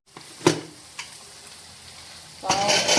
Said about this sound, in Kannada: ಇದು ಫ್ರೈ ಆಗ್ತಾ ಇರಲಿ